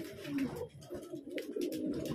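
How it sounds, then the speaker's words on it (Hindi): Pigeons perched together coo in soft, repeated throaty rolls, close and fairly quiet, with a few light rustles between calls. "ये मेरे उड़े हुए कबूतर बैठे हैं"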